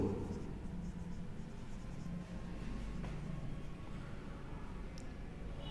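Pen writing on paper while working an electric flux physics problem, a continuous close scratching under steady low background noise.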